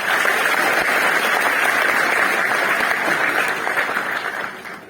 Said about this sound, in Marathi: सर्वप्रथम माझ्या बोलण्याला सुरुवात होण्यापूर्वी ह्या सगळ्या उभ्या असलेल्या मित्रांसाठी एकदा जोरदार टाळ्या वाजवूया.